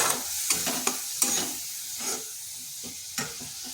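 Spice paste with a splash of water is stir-fried in a pan for a vegetarian papaya and soybean dish, producing a soft hiss and sizzle punctuated by sharp, regular scrapes and taps of a spatula.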